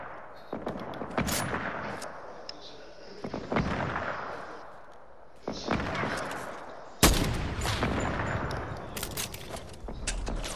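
Sharp gunshots ring out during a video-game firefight, a handful of loud cracks with echoing tails spaced a couple of seconds apart, the last one heaviest, with a faint voice now and then.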